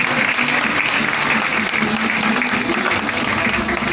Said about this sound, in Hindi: एक बार जोरदार ताली आप लोगों के लिए।